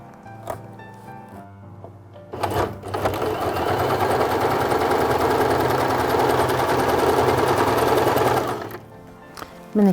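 A sewing machine stitching a patchwork quilt, running in a steady, close, continuous whir for several seconds after a few brief starts, then stopping.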